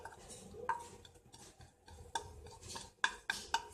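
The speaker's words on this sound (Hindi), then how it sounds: "अब हम सारे सामान को मिक्स कर लेते हैं।" Yogurt, ginger-garlic paste, lemon juice, coriander powder and spices being stirred together for chicken tikka, heard as a few sharp utensil clinks against a bowl between quieter soft mixing sounds.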